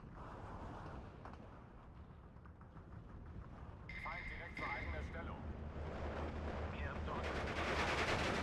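Machine gun fire and other gunshots in the Steel Division 2 battle game, a busy mix of distant bursts and explosions with a steady rumble building toward the end.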